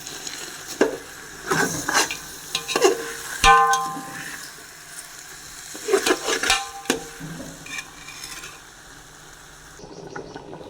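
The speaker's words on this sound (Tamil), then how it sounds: "நான் இப்போ வந்து சுடுதண்ணி வெந்நீர் நல்லா கொதிக்க வச்சுருக்கேன். அரிசி போடுவோம்." Rice tipped into a pot of boiling water for biryani, with a clatter of grains and utensil scrapes and stirring over a steady bubbling hiss, close up.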